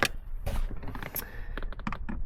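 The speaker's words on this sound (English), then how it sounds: "it's just basically aligning up the tabs on the plastic trim to go into here" Plastic interior trim on a Volvo XC70 D5 being pushed back into place, with a handful of sharp, close clicks and knocks as its tabs seat, spread unevenly over a couple of seconds.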